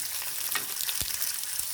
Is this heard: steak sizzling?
yes